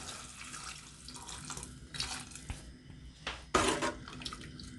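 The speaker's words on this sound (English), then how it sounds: "Add about 4 cups of water to this pot." Water runs and splashes into a cooking pot for sheep tongue souse, a steady stream with a few louder gushes and spatters, close by and with no talk.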